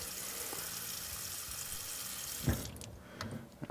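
Water runs in a steady hiss from a Gaggia Babila espresso machine during descaling, then stops with a small clunk near the end, followed by quieter handling noises.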